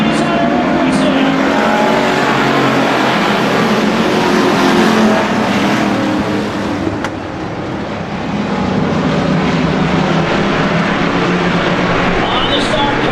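A pack of race cars at Beech Ridge roaring off the green flag for a 50-lap race, a dense sustained engine drone with a public-address announcer talking over it throughout.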